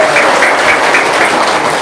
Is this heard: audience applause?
yes